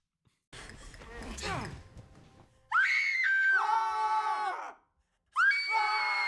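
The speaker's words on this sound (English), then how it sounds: "You get the classic sitcom scream" A classic sitcom scream from a TV show: a burst of commotion and shrieks gives way to a loud, sustained high-pitched scream that cuts off abruptly, followed after a brief pause by another scream starting.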